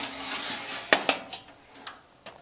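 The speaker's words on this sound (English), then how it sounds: "Popping the tray into the toaster oven" A tray of oven-roasted zucchini slides into a toaster oven with a couple of sharp metallic clanks near the middle. Lighter knocks and taps follow against a quiet room background, and nobody talks.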